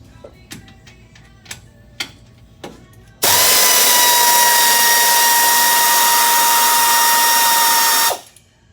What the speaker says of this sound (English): So we'll start getting all these bolts loose